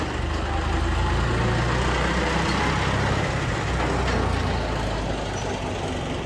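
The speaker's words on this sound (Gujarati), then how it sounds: "ટ્રેક્ટર આવવા લાગ્યું યાર." A tractor rumbles past close by on a village road, a loud, steady low engine drone with broadband road noise that holds for several seconds and eases slightly toward the end.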